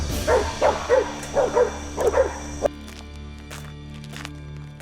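Hunting dogs bark during a wild boar hunt, a run of about six sharp, fairly close barks in an uneven rhythm, then a quieter stretch with faint clatter and background noise.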